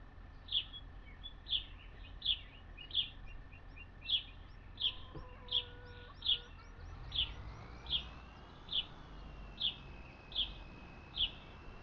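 Chicken sounds from the farming video game Farming Simulator 25, a regular string of short bright chirping calls, about one every second, heard clearly over a faint background hum.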